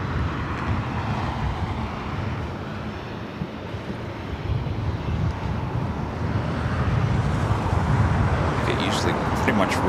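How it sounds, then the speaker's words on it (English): An Airbus A380 rolls down runway 25 left on the south side of LAX, a broad, continuous jet engine roar at a distance that swells slightly toward the end, with wind rumble. "A380 rolling down 25 left there on the south side"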